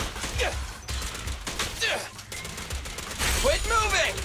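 Rapid gunfire bursts from the video game Zenless Zone Zero crackle through the clip, with the loudest flurry near the end, layered over game effects and a voice talking throughout.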